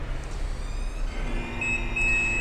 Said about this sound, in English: You hear that beep, and now it is set to that height.